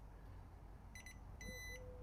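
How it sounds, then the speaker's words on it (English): A Kaer fingerprint safe gives two short electronic beep sequences, a quick double chirp and then a longer confirmation tone, faint over a low steady background hum. "if it does that beep that you just heard, that means it is successful"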